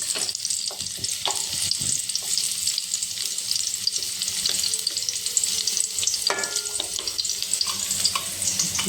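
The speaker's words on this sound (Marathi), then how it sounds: "लसूण टाकायचा त्याच्यामध्ये, थोडंसं हलवायचं, ह्याला लसूण लाल होऊ द्यायचा जरा" Garlic paste sizzles steadily in hot oil in a pan as a palak bhaji is started, with frequent scraping and clinking stirs from a spoon across the continuous close frying hiss.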